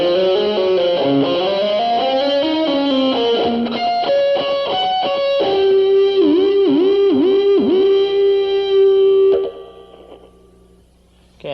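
Slow electric guitar lick ringing with harmonics, notes bending and sliding, then a whammy bar dive with wavering pitch before the sound cuts off; clean and close, no talking.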